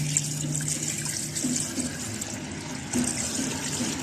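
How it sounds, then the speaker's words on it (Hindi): Water poured from a vessel into a pressure cooker holding lentils and chicken for shami kebab, a steady close splashing and trickling fill running without pause and without talk. "अब मैं इसमें डालूंगी पानी।"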